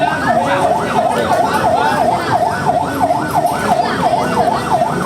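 Several ambulance sirens near a train crash, a loud wailing siren sweeping up and down in a steady repeating cycle close by, over a background of traffic rumble.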